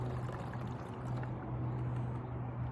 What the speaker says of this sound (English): And then I pour it in, which is half a cup of hydrogen peroxide.